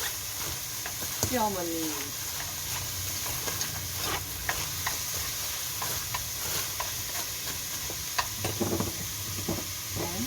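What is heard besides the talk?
stir-frying balloon flower roots (doraji) in a pan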